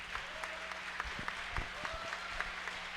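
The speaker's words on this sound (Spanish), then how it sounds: "Un aplauso para Hilmer Mesa" A small audience claps warmly for a few seconds, the sound fairly close and steady, with scattered individual claps standing out.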